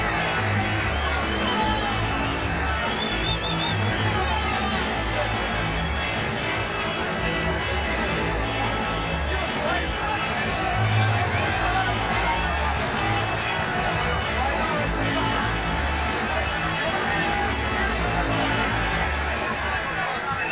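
A large stadium crowd in the cricket game Cricket 24, reacting to a shot with a steady, broad roar of cheering and chatter that holds at one level throughout and never fades.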